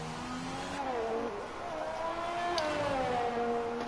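A McLaren race car in a racing video game, on the Hungary circuit, drones past with a steady high engine whine whose pitch rises and dips through the gears, sustained and fairly loud under a commentator's voice.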